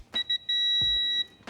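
A torque wrench set to 75 foot-pounds gives short beeps, then one sustained high electronic beep, while tightening bolts on a G35's Akebono big brake kit, with light clicks and clunks around it.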